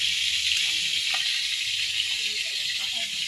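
Food fries in a pan while someone cooks at home, producing a steady close sizzle with faint clinks and quiet voices underneath.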